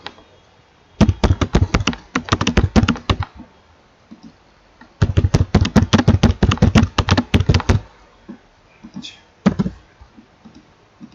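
Keyboard typing while witness details are entered into an online sale-deed registration form, two long bursts of quick, close, crisp key clicks separated by a pause, then a few scattered taps at the end.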